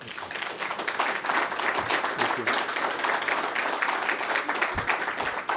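Dense, continuous audience applause at a press appearance with an acting president in Israel, moderately loud and steady, with a few low thumps near the end.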